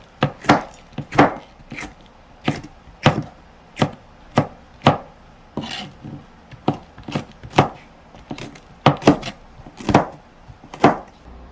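A knife roughly chopping vegetables on a cutting board for perilla leaf pickle, about twenty close, sharp knocks in an uneven but steady rhythm, with no voices.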